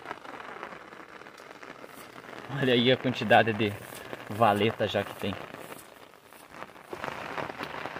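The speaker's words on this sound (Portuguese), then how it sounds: "Vai ficar o barulho da chuva no guarda-chuva do começo ao fim do vídeo" Rain patters steadily on an umbrella during a downpour over a cornfield, a soft constant hiss throughout, with someone talking over it in the middle.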